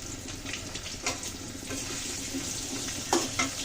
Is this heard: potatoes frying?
yes